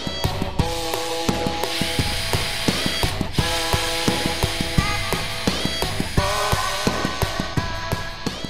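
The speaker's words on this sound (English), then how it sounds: "finally drilling and tapping the quarter-inch thread with your quarter-inch tap set" Rhythmic metallic clicking and ratcheting from a quarter-inch tap turning steadily as it cuts a thread, close up, with regular sharp ticks throughout and no talking.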